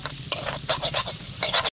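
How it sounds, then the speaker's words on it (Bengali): Onion and garlic fry in a pan in a village kitchen, a close, loud sizzle broken by bursts of stirring and spattering over a short stretch, ending abruptly. "পিঁয়াজটো আৰু নহৰুটো ভাজি থাকি অকণমান দেৰিলৈকে"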